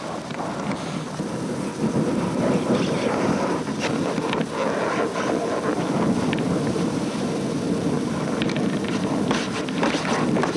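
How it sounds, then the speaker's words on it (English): Strong wind on Mount Vinson in Antarctica batters the microphone, a loud continuous rushing roar that swells after a slightly quieter start, with buffeting gusts and no voices. "So every time we get up here, we always get nailed by bloody wind."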